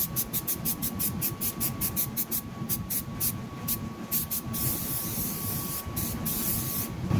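Headliner glue adhesive sprayed onto a car console armrest of a 2008-2012 Honda Accord, a series of short rapid hissing bursts in a quick rhythm, then a longer continuous hiss, close and loud.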